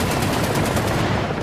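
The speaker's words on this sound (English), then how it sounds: "The second is armed with a 30mm automatic cannon, which can be used to hunt both ground vehicles and helicopters." A 30mm automatic cannon fires in rapid, continuous bursts in the War Thunder combat game, loud and close with dense repeating reports filling the moment.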